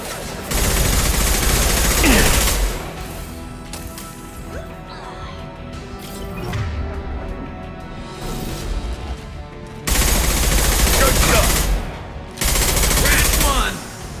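Rifle fire in the video game Mass Effect 2: loud bursts of shots in clustered volleys with crashing impacts, stopping and starting across the battle, with a voice talking between the bursts.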